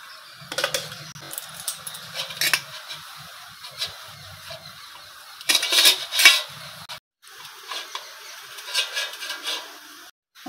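A spoon or spatula stirs coconut barfi mixture in a pan until it dries, with repeated scraping and clinking against the metal, a louder burst in the middle and a brief silence before the stirring resumes.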